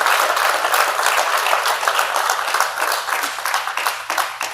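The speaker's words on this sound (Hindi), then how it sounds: "सो एक तो जोरदार ताली होनी चाहिए." Audience applause for a performance at an Indian film talk show, loud dense clapping from a crowd, steady and continuous, fading slightly toward the end.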